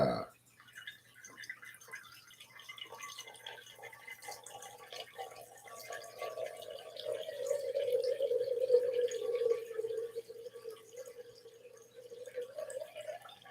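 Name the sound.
water dripping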